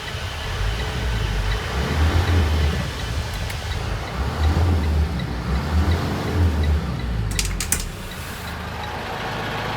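A 2021 Thomas C2 school bus engine idles steadily with a low, smooth rumble, close by, with a brief faint clatter near the end.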